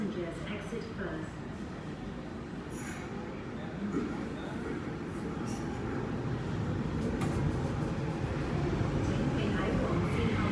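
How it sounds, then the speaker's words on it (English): A train pulls into Ma On Shan station in Hong Kong, a steady low rumble that swells as it nears. Station announcements and voices run over the noise. "The train to Tianpon is arriving"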